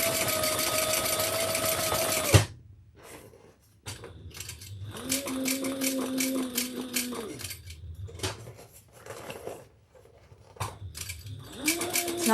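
A sewing machine top stitches a tote bag, running in several bursts of fast steady whirring broken by pauses, with small clicks and handling noises between runs.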